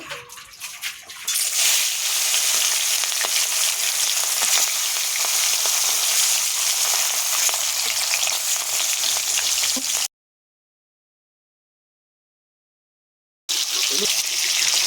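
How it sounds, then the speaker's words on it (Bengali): Rohu fish pieces fry in oil in a kadai, making a loud, continuous hissing sizzle. It breaks off into silence for a few seconds, then resumes. "এবার মাছগুলো আমি ভেজে নেব।"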